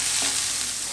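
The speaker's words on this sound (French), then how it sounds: "je fais revenir du coup mes oignons et mon ail dans ma casserole, enfin dans ma sauteuse" Onions and garlic, then peppers, frying in a sauté pan for a Spanish omelette, giving a steady, close hiss of sizzling oil that holds evenly with no one speaking.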